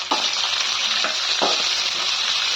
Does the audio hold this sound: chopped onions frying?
yes